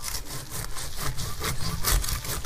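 A wood saw cuts through the soil of a potted water apple tree with steady, rasping back-and-forth strokes, close and fairly loud, with no talking.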